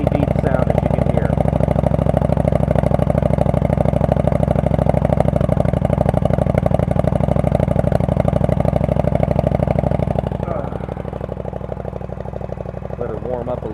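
A deep, steady 1999 Yamaha V Star 1100 Custom motorcycle engine idles close by with a low, even throb, then drops slightly quieter near the end; a voice speaks faintly over it.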